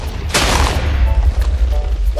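A cursed energy cannon in a Minecraft Jujutsu Kaisen mod fires one loud, sudden blast, followed by a heavy rumbling roar that carries on low and strong to the end.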